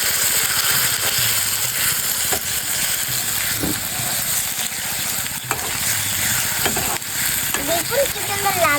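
Turnip and tomato are stirred in a hot pan in a village-style kitchen, a steady close sizzle of frying with scattered scraping clicks from the spoon throughout.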